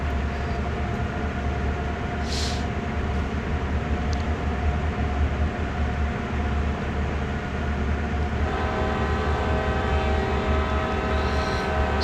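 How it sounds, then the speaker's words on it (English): Horn of a CSX heavy-haul freight locomotive at a tunnel in Train Sim World, sounding a steady sustained blast over continuous loud engine and rail rumble, with no talking. "Sometimes I just blow my horn at tunnels because I like to blow my horn at tunnels."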